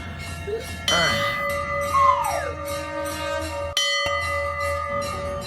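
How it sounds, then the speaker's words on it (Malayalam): A temple bell rings with clear metallic strikes and a lingering, ringing hum, loud and close, while voices talk over and between the tones. "ആ മണി അടിച്ചു തുടങ്ങി"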